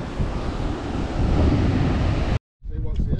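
Ocean waves wash in on the South Australian coast with a broad, continuous rushing roar mixed with wind buffeting the microphone, then a sudden break and quieter surf with faint voices.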